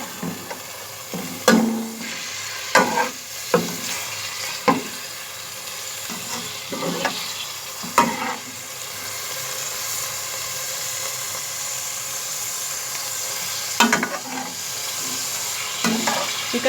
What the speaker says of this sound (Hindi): चिकन को हमें इस घी में गरम मसालों के साथ